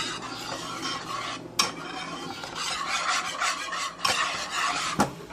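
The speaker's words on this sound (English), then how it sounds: "And I'm going to whisk it together." A whisk beats a flour, milk and salt mixture in a bowl for turkey biscuit pot pie, a busy rasping swirl punctuated by a few sharp taps of the whisk against the bowl's rim.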